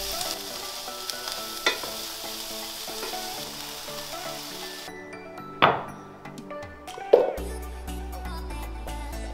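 Frozen green peas fry in a pan with vegetable oil and a knob of butter, sizzling steadily with occasional clinks of a utensil against the pan.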